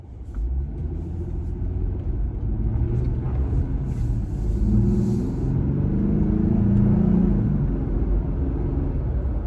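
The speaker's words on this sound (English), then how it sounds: "from a stop here, we're just going to accelerate normally, just in a slower speed limit area" A Jeep Gladiator pulls away from a stop at moderate pace in a low-speed area, its exhaust giving a steady, close low grumble that swells gradually over several seconds.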